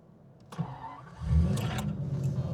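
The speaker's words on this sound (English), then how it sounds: "Picks up pretty quick. Yeah, it's got a high torque starter motor." A Jaguar XJ-S V12 with a high-torque starter motor cranks briefly and catches quickly, the engine rising into a loud, deep rumble that holds steady close by.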